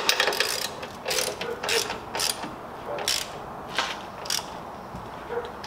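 A hand ratchet tightening a Tanabe strut bar bolt on a 2017 Honda Civic Si, several short bursts of rapid pawl clicking close by, with pauses between strokes and no talking.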